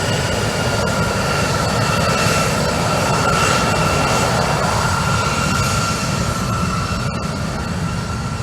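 A commercial airliner readies for departure on runway 15, its engines a loud, continuous roar that holds steady throughout without fading.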